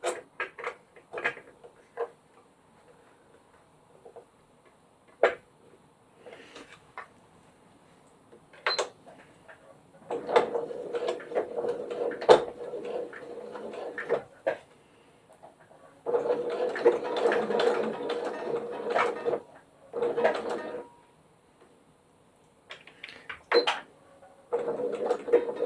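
A sewing machine stitches a zipper pouch in short, intermittent bursts of mechanical whirring, broken by pauses and small clicks and handling noises, with two longer runs of steady sewing.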